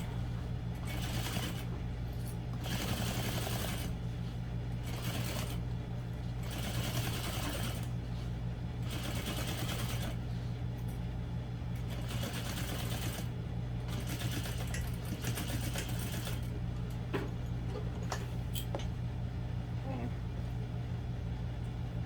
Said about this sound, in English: We're just going to top stitch the entire length of the bottom panel.